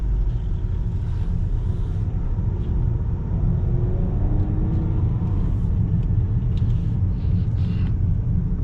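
A 2021 Honda Accord Sport with the 2.0-liter turbo engine drives along in sport mode, giving a steady low road rumble and engine drone heard from inside the cabin, with no talk.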